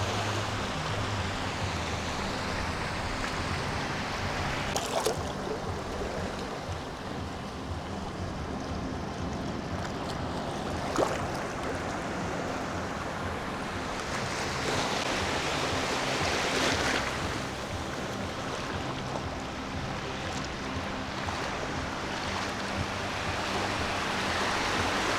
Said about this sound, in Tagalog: Malakas na yung alon, pero hanggang ano lang din yung tubig.